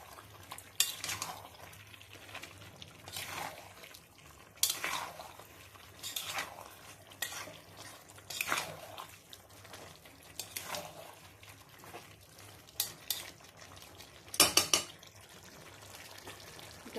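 Potatoes stirred and fried with spices in a pan for a homestyle chicken dish, repeated scraping stir strokes over a low sizzle, with occasional utensil clinks against the pan, no talking.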